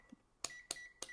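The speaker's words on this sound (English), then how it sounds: "The beeping every time you switch it is annoying" ANENG AN870 multimeter beeping as its rotary switch is turned: three short, faint electronic beeps spaced evenly about a quarter second apart, each with a small click, with no talking.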